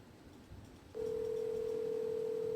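An outgoing telephone call to an auto detailing business: after a second of faint background noise, a steady electronic call tone starts and holds unbroken to the end.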